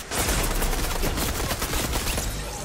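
A dense, loud volley of rapid gunshots in the video game Fortnite, continuous close-range firing with no talking.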